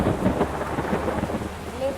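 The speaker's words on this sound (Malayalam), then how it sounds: "നല്ല ഇടി വെട്ടുന്നുണ്ട്." Thunder rumbling over steady heavy rain at night in a KSRTC bus simulator game, a continuous loud roar of downpour with low thunder throughout, no voices.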